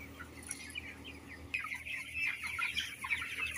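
Broiler chickens cluck and chatter inside the upper level of a closed-house coop, a faint scattered flock at first that grows louder and busier halfway through, over a low ventilation hum.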